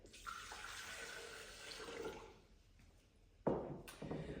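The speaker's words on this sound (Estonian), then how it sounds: "Aga kõigepealt ma panengi siia vett." Tap water runs steadily into a cooking pot as broth preparation begins in a home kitchen, the flow dipping briefly before a louder gush near the end, with no talk over it.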